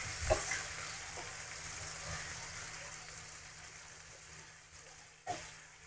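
Pork sautéing with tomatoes in a pan for ginisang monggo, a soft steady sizzle with a few scraping stirs and a sharper knock near the end, fairly quiet and with no talking.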